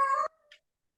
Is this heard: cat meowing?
yes